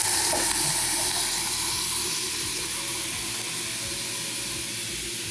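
Potstickers sizzling in a pan after water is added, a loud steady steaming hiss and crackle that slowly eases over a few seconds, with no talking.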